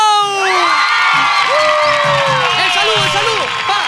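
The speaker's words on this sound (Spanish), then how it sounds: "Vamos a recibir con un fuerte aplauso a el bebé del flow." At a children's party show, a lively crowd welcomes a young performer with shrill cheers, whoops and excited children's shouts over scattered clapping, loud and close throughout.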